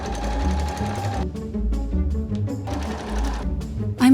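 A sewing machine stitching corset boning channels for a Victorian corset, running in steady close rapid bursts with brief pauses between seams, no talking.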